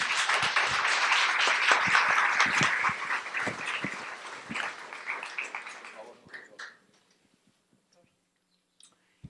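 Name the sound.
audience applause welcoming a speaker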